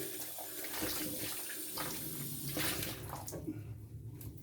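Tap water runs steadily from a faucet while a shaving brush is rinsed under it, a continuous splashing flow with soft squishing bristles, close and moderately quiet.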